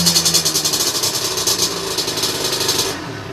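Motorcycle engine with a 17.5mm carburetor revving up from idle, a loud close pulsing rasp that climbs and holds, then drops back near the end.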